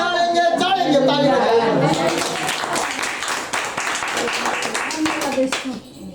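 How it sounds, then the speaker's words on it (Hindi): A church congregation claps hands together during a Hindi Christian sermon, a dense, loud patter of many palms that follows an excited spoken and chanted passage and tapers slightly toward the end. "ताली"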